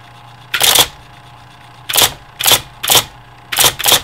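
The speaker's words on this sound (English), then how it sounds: "I'm going to type a couple of letters." An IBM Electronic Typewriter 85 types letters in short bursts: one quick flurry, a pause, then five more crisp clacking strikes in an uneven rhythm, close and clear over a faint electrical hum.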